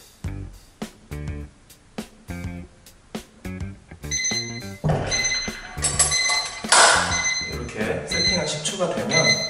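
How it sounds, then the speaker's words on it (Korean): A grip-training timer rings with a rapid series of short electronic chimes, then breaks into a louder, sustained jangling alarm, close and fairly loud, with scattered clinks underneath. "10초가 되면 알람이 울리고요."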